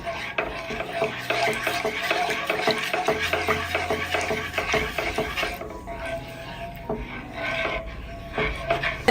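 Idiyappam batter mixed and stirred in a pan before the flame is turned on, with busy repeated scraping and clinking of a utensil against the pan at a steady rhythm.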